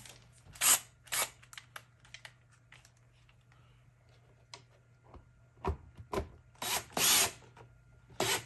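Power drill driving screws during a Whirlpool washer actuator pad repair, heard as several loud short whirring bursts scattered through the clip, with quieter clicks and handling noise between them.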